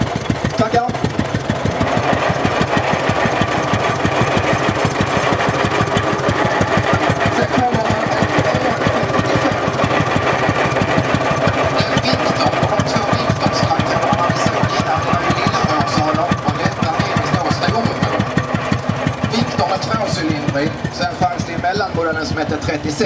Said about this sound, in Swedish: Det är en traktor som såldes i Sverige i några exemplar mellan 1916 och 1922.